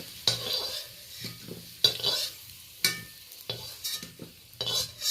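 Ridge gourd stirred and fried in a little oil, with a spatula scraping the pan in regular bursts over a bright sizzle, up close and moderately loud, no voices.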